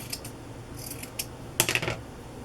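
Scissors snipping a small piece of chenille into a triangle, heard as a few faint, quick clicking cuts close by over a low background hiss.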